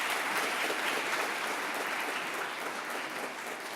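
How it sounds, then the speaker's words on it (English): An audience at a lecture event gives sustained, even applause after a talk, a dense wash of many hands clapping at moderate distance throughout. "Let's give her another round of applause."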